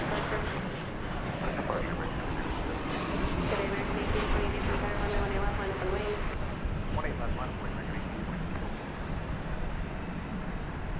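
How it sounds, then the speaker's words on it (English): A Boeing 737-800 airliner arriving at DFW Airport from Tampa, Florida, gives a steady, loud jet roar that holds throughout, with people talking over it. "This is flight 1369 coming in from Tampa, Florida, 737-800."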